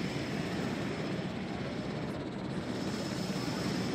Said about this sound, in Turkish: Oo, iki helikopter.